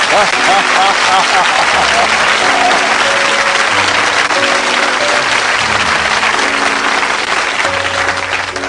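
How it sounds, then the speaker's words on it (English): An audience at a motivational speech applauds loudly and keeps it up for several seconds, a dense wash of clapping with a few voices and low hum underneath. "Give yourselves a round of applause"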